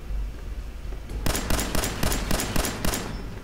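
Rapid video game gunfire from Fallout 4 cracks out as a burst of about eight sharp, loud shots in quick succession after a second of low rumble.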